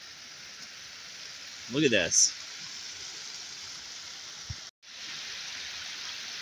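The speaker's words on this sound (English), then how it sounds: "a huge, huge waterfall." Large waterfall near an old flume in Juneau, Alaska, giving a steady, broad rushing hiss that runs throughout under a short spoken remark, with a brief break near the end.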